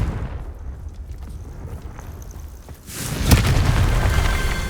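A Confringo blasting spell in Hogwarts Legacy goes off as a sudden loud boom, followed by a sustained roaring, crackling blast tail after a quieter lead-in.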